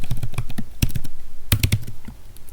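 Rapid, uneven clicks of fingers typing on a computer keyboard, with a couple of denser flurries, sounding close and clear with no voices.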